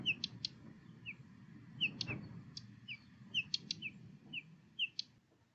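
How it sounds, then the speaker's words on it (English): A small bird gives a faint mix of thin whistles and hard chack notes, scattered calls spread over a quiet outdoor background. "The calls are a mix of whistles and chacks."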